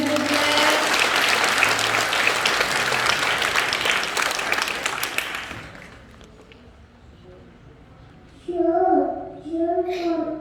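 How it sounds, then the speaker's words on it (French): An audience at a children's performance for Haiti claps loudly and continuously for about six seconds, then the room falls quiet before a voice and music come in. "Applaudissez s'il vous plaît."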